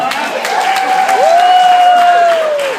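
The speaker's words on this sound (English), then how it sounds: "Big round of applause for Shawn." Wedding guests applauding a best man, a dense, sustained burst of clapping from a crowd, with a whistle-like tone rising above it.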